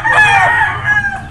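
A gamefowl rooster on a rooftop game farm crows loudly and close by, one strong drawn-out call with a short trailing tail.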